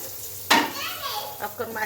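Eggplant slices frying in hot mustard oil give a steady close sizzle, opened by a sharp burst as they go in, followed by softer crackling and stirring noises.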